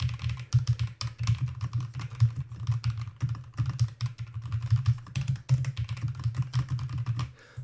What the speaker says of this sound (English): Now this is the new Corsair keyboard, which is, again, sounds very nice.